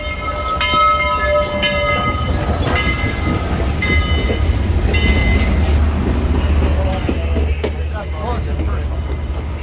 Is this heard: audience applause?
no